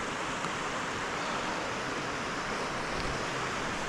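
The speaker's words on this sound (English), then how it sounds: "You see where the river's getting pushed over from the right to the left here through all these boulders." A river rushes and churns through a field of boulders, producing a dense, unbroken roar of white water that holds steady and loud throughout with no voices.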